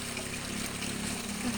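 Strong mountain spring water gushing and trickling steadily from a small source in the Philippine countryside, a continuous close rushing flow with no voices.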